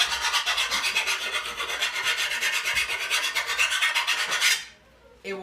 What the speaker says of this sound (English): Now you can take a finer file